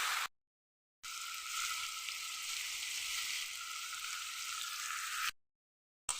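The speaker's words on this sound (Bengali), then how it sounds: "এবার এটাকে আমি একটু নেড়ে ছেড়ে দেবো।" Pipol greens frying in a pan, a steady hissing sizzle heard close, broken by short silent gaps at the start and end.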